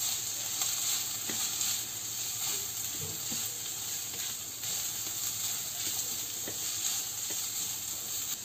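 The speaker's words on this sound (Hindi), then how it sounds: "इसमें कैबेज ऐड करके 1-2 मिनट इसे भी अच्छी तरह से फ्राई कर लेंगे।" Cabbage fries in a pan for chicken kebab rolls, giving a steady, close sizzle and steamy hiss with a few light stirring clicks throughout; no talking.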